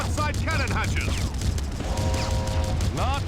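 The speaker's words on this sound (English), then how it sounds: "Fire the cannons." Airship cannons firing in a video game battle against a zeppelin, with rumbling bursts under a constant low engine drone and electronic game sounds, fairly loud throughout.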